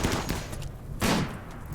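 Rapid bursts of gunfire in RimWorld, two dense volleys of shots in quick succession, fairly loud with no talk.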